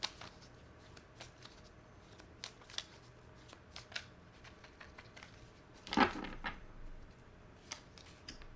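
Tarot cards are shuffled by hand in a quiet room, producing soft papery riffles and crisp taps at irregular intervals, with one louder flurry of card snaps near the end.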